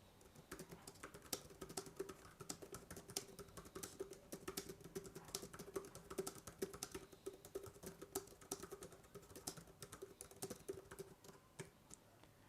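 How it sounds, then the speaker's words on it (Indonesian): Rapid typing on a Dux Ducis foldable wireless keyboard for a tablet: a dense, steady patter of light plastic key clicks throughout, close and fairly quiet, with no voices. "saya akan perdengarkan suara indahnya biar teman-teman bisa yakin atau tidak nih dengan si keyboard dari Dux Ducis ini."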